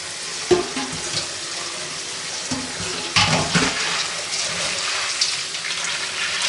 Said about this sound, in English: we're going to rinse out our beans really good